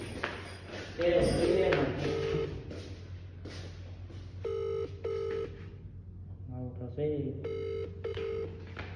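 A phone rings repeatedly with bursts of electronic ringtone tones, unanswered, while a person talks nearby between the rings.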